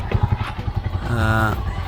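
A motorcycle rides over a rough, potholed dirt road on the way to a river in Barangay Cantugas, Mainit, Surigao. The engine drones up close, steady and loud, with a voice talking over it.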